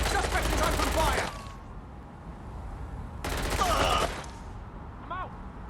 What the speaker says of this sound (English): Suspect is open fire.